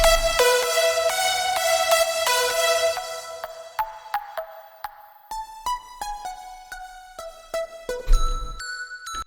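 Synth lead presets for a progressive house melody, each played on its own: bright, bell-like plucked notes in a stepping melodic line, clean and close, with no talk.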